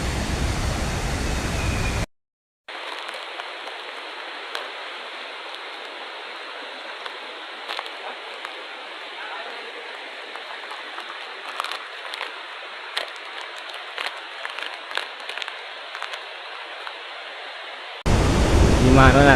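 Water rushes steadily below the Samanala lake dam near Balangoda, a loud continuous roar like a torrent feeding the river, with a short break near the start.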